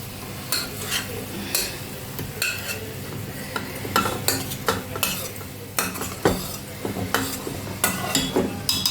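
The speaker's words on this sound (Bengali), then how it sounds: "এবার কুকারে দিয়ে দিচ্ছি, একদমই কষা হয়ে গেছে" A metal spoon scrapes and clinks repeatedly against a pan while browned, oily mutton curry is moved into a pressure cooker, with a faint sizzle underneath and no talking.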